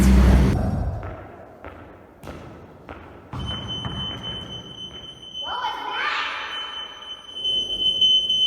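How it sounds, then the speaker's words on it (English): A shrill, steady fire alarm tone sounds continuously through the second half, after a few dull thumps, with a person speaking briefly over it. "Oh, that was a fire alarm."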